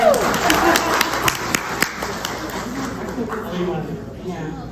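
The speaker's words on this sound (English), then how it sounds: "Everybody, give a round of applause to Alex." Applause from a keynote audience at Asilomar, a dense wash of clapping that rises at the start and slowly fades away over several seconds, with no voices over it.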